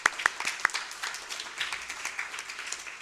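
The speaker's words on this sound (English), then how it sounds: "Round of applause." Audience applause after a talk at a disaster resilience conference, a brief, fairly faint spatter of clapping with a few sharper individual claps near the start, thinning out over about three seconds.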